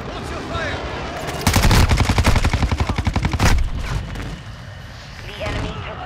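Heavy rapid automatic gunfire from a Call of Duty: Modern Warfare II multiplayer match on the Embassy map, a loud dense burst in the middle with scattered shots before and after and game voice callouts mixed in.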